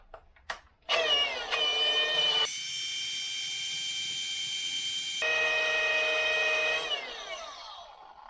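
A power tool buffs aluminum with a loud, steady high-pitched whine that shifts pitch as the load changes, then winds down at the end, heard up close with no talk.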